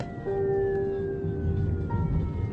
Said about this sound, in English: That evening, we heard sirens.